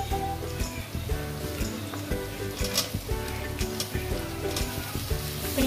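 Boiled chicken liver frying with onions on a tawa for kaleji masala, a continuous close sizzle with a low rumbling hum beneath and occasional light scrapes of stirring.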